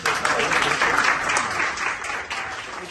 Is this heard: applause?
yes